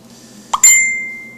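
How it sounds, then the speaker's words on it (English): A short plop followed by a single clear chime that rings and slowly fades, an electronic mobile phone notification heard close up against a quiet background. "That was my phone, and it's pretty annoying"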